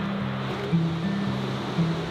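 Ocean surf rolling onto a wide sandy island beach, a steady low wash with a couple of slightly louder swells breaking close by, no voices.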